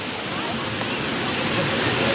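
A waterfall roars in a steady, loud, broadband rush, with a voice talking over the falling water.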